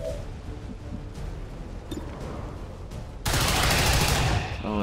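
Combat gunfire in XCOM 2, a few scattered shots followed by a loud sustained burst of rapid automatic fire near the end.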